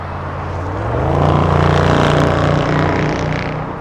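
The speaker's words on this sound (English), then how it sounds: "As a muscle car floors in Imperial Highway down below us" A muscle car floors it on Imperial Highway below, its engine swelling into a loud, rising roar that peaks mid-clip and then eases slightly while staying strong, heard alone without talk.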